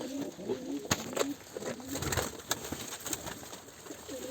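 Pigeons in a coop coo softly, with several low throaty calls repeating close by, a few sharp clatters, and faint flapping in between.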